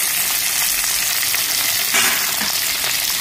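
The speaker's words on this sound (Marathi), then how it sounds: "तर बघा इथे कांदा आपला फ्राय झालेला आहे।" Onion with spinach sizzles steadily in a hot pan, a loud continuous hiss of frying with faint stirring scrapes near the end.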